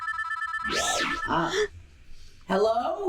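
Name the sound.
telephone ringing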